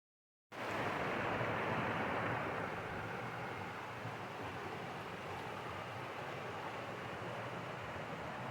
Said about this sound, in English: Those step-ups for the river slash creek really look cool, with the little waterfalls coming off each one.